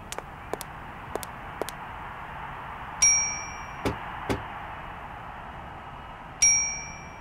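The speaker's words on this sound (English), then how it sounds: "it's a bell." A bell in the video game Syberia rings twice with bright, ringing tones that fade slowly, set among several sharp clicks and knocks in a quiet scene.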